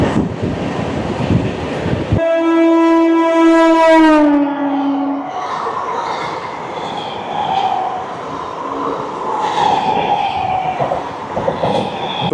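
An Intercity express sounds a long, loud, steady horn blast that bends down in pitch as it sweeps past near Gangpur station, followed by the continuous rumble and rattle of its passing carriages.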